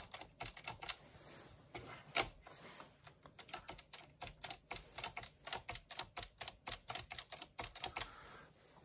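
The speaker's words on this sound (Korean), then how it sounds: "이 백스페이스 키에 지금 뭐 어떤 무게감이라든지 작동 소리가 뭐 특별히 되게 이렇게 시끄러운 게 아니에요" Close, soft clacking from a Hermes Baby portable typewriter as keys and the backspace are worked in a long uneven run of rapid strikes, light rather than loud.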